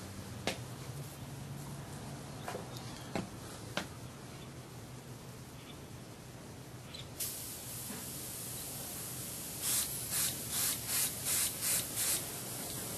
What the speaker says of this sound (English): I just put a little mist coat down.